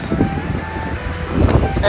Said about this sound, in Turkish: Biraz rüzgarlı hava.